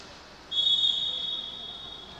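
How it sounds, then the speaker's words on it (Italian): A referee's whistle at a women's roller hockey match gives one clear, steady blast lasting close to a second over faint arena background. "fischio dell'arbitro"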